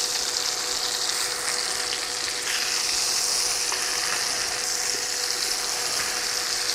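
A beef roast seasoned with garlic powder, onion powder and paprika sears in a hot pan, giving a loud, steady, close sizzle and crackle that never lets up, with no talking.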